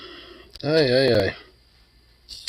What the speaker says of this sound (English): That is a yawn of decompressing myself from a nice, decent old work day.